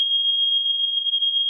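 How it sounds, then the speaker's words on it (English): A fire alarm going off indoors, a loud, steady piercing electronic tone holding without a break, with no voices over it. "Oh, that's the fire alarm."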